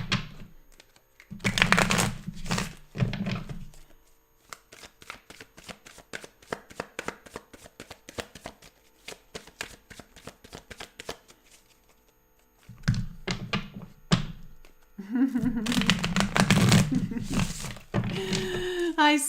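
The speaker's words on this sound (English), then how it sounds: "Let's just shuffle up your decks for the last half of March." Tarot card decks being shuffled, long stretches of rapid crisp card flicks and riffles close to the microphone, with a person talking at the start and again near the end.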